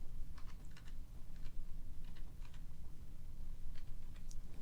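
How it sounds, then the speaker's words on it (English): Keys tapped on a computer keyboard as a student ID number is entered, short irregular clusters of soft clicks over a steady low hum, fairly quiet and close. "Type in your full student ID number here."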